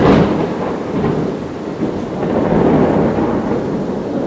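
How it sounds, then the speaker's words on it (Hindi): Heavy rain pours down in a loud, continuous roar while deep thunder rumbles and swells underneath, alone with no voices. "देखो, बारिश और भी तेज हो गई है और छत तो जैसे बिल्कुल जवाब दे चुकी है।"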